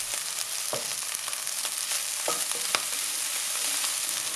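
Fried rice ingredients seasoned with salt are stirred in a hot pan. A constant sizzle runs under occasional spatula scrapes and taps, close up and with no talking.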